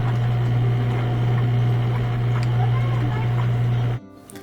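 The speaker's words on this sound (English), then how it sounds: "we're just on the first part of the cycle where we're getting the agitation." A Maytag washing machine agitates a small load at the start of its cycle. A steady, droning motor hum with a churning undertone holds for about four seconds and then cuts off abruptly, leaving near quiet.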